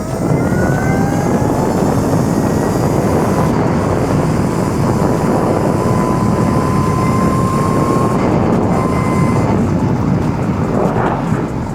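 An electric Razor MX650 dirt bike races around a track at speed, a loud steady roar of wind and rushing noise with a thin rising motor whine riding over it the whole time.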